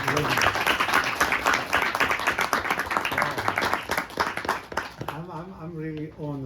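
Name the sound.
audience applause welcoming speaker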